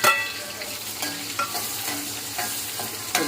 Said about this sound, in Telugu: ఇప్పుడు సన్నగా తరిగిన కట్ చేసి పెట్టుకున్న ఆనియన్స్, 2 పచ్చిమిర్చి కూడా ఇందులో వేసి